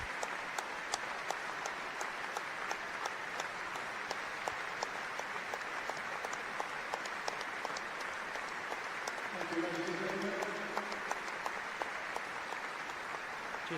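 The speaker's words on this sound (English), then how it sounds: "Ashton Gate rises as one in celebratory applause for the life of Ian Williams" A rugby stadium crowd at Ashton Gate standing and applauding together, a dense sustained wash of clapping with a commentator's voice talking over it.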